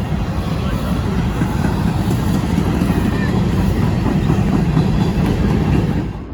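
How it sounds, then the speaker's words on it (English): The CSX Q008 freight train rumbles loud and close in a steady, continuous roar. A faint squeal rises over it partway through before the sound eases slightly at the end. "here comes CSX Q008"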